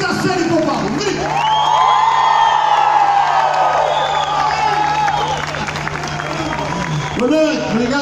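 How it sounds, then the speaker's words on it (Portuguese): A crowd shouts, whoops and cheers at a nighttime concert in São Paio de Oleiros, a loud, sustained roar of many voices rising and falling, with a single voice talking over it. "Um grito a sério para o Paulo, um grito."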